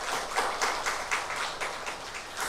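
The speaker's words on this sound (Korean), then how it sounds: "다시 한번 감사의 박수 하겠습니다" A congregation at a Sunday church service claps for the church choir, a steady, dense patter of applause with slight swells throughout.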